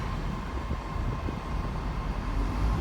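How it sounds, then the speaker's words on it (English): Glasgow-bound train leaving a platform at Edinburgh Waverley station, a steady low rumble and drone of the moving train with a faint tonal hum, moderately distant, with no speech. "A Glasgow train is off."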